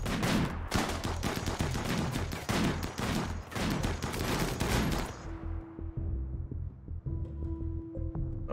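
Rapid, dense bursts of light machine gun fire in the colony game RimWorld, loud and continuous for about five seconds before cutting off to a quiet tail with faint tonal game sounds.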